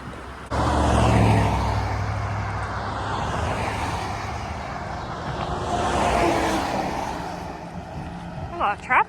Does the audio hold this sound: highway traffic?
yes